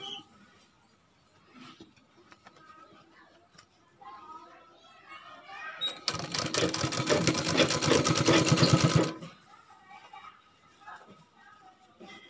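A sewing machine stitches a blouse made from an old saree, running in one steady burst of about three seconds, with people talking quietly before and after.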